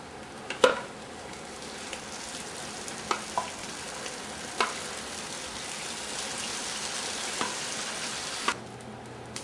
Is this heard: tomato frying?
yes